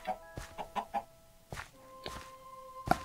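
Several short, clipped Minecraft chicken clucks in quick succession, followed by a couple more after a pause, over a faint steady tone.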